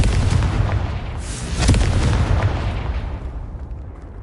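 A Confringo spell explosion in a video game: a loud booming blast with a crackling burst that swells and then slowly rolls away, heard alone without speech.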